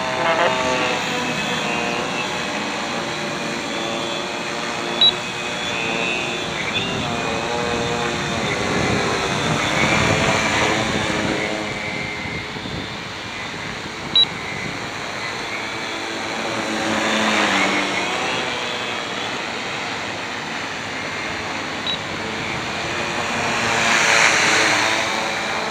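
A Stretched Alien 560 quadcopter drone flies overhead, its motors giving a steady whirring buzz that grows louder and softer as it passes at a moderate distance.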